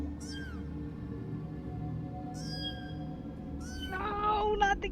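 A cat meows several times, sounding distant and echoing as if carried down a tunnel, with rising and falling cries over a low rumbling background and a cluster of sharper mews at the end.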